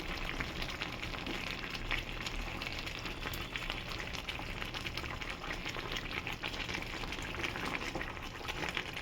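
Pomfret fish curry gravy bubbling and reducing in a pan, a steady dense sizzle and simmer running throughout at close range with no talk.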